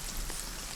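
Steady rain falls outdoors, a dense even hiss of drops on surfaces with no clear individual patter and no voices over it.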